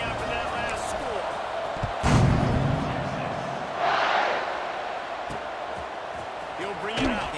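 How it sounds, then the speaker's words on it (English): A stadium crowd in the College Football 26 video game buzzes steadily through the whole stretch, with a few louder swells and thumps, while a commentator talks over it. "this crowd is buzzing after that last score"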